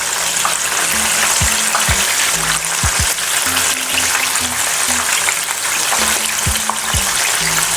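Skinless chicken pieces frying in oil, KFC style, a loud continuous close sizzle with occasional bubbling pops and low thumps.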